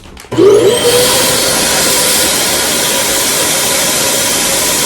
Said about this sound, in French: Je viens de demander à Jessica comment fonctionnait l'aspirateur pour que je puisse le défaire et vider mes sacs aspirateurs